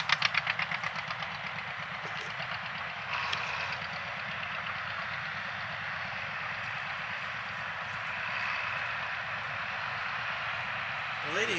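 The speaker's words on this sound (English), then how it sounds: "It's the tractor parade." Tractors in a tractor parade rumble past at a distance, a continuous low chugging engine drone with a rhythmic knock that swells slightly toward the end, with a voice occasionally heard over it.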